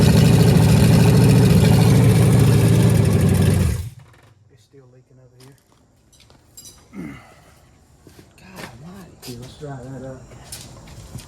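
A rebuilt AMC 401 V8 in a 4x4 van runs loud and steady for about four seconds, then cuts off, leaving quiet shop noise and scattered voices talking.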